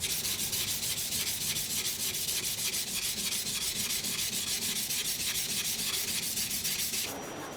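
A knife blade is steadily rubbed against a sharpening surface as it is thinned toward the tip, producing a continuous, close, rhythmic abrasive scraping that eases off near the end.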